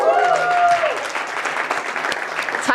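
Crowd breaks into loud applause and cheering at a live talk on a campus stage, with whoops and shouts over dense, steady clapping throughout.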